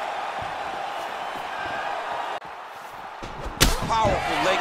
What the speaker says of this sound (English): Powerful leg kick land.